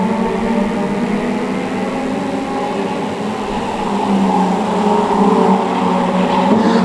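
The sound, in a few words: stock rod race cars racing at Cowdenbeath Racewall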